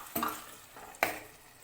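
Ground masala and curry leaves are stirred in a pan for a fish curry. Two soft scraping strokes of the spoon sound over a faint sizzle, and no one talks.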